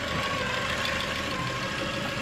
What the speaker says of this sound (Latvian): Redz, ko nozīmē, ka Kāriņam ir īsts Moskvičs motors